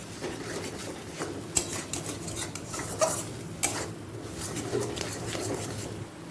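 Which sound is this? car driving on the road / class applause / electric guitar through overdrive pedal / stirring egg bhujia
stirring egg bhujia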